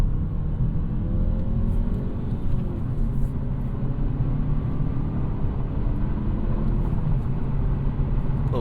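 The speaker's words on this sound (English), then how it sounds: "A little pumped in engine noise to help us out." Engine drone inside a 2025 Mazda 3 with a 6-speed manual while driving, partly enhanced through the speakers, a steady low rumble with road noise holding at an even level throughout.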